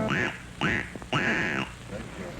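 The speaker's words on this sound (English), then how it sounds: "that's a wise quack" Three drawn-out, nasal duck quacks, each rising then flattening, come in a slow sequence during a 1970s big band radio show, fairly close and clear with a faint patter of background noise.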